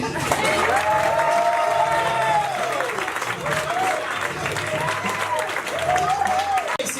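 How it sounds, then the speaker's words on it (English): Steady applause from an audience fills the room, with a voice speaking loudly over the clapping. "Keep those hands clapping for Lucas O'Neill."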